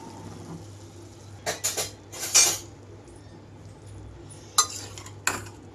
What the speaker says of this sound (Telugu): ఇంకా నేను స్టవ్ ఆఫ్ చేసేసి సర్వింగ్ బౌల్లోకి అయితే తీసుకుంటున్నాను.